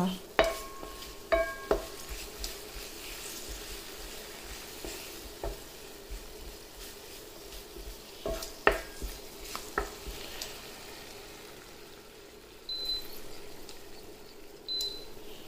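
A spoon stirs soy sauce into a steamed fish dish, giving scattered clinks and scrapes against the dish over a soft, continuous sizzle.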